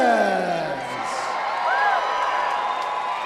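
Boxing fight-night crowd in Boise cheering and whooping for Twin Falls fighter Cesar Cervantes, a steady broad roar of many voices at fairly close range with scattered shouts and whistles throughout.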